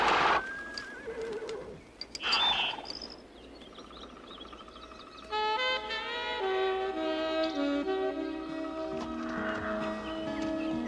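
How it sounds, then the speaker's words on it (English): Horses whinny and neigh loudly, with hooves clopping and birds chirping faintly in the background. "Turn your horses around and follow me."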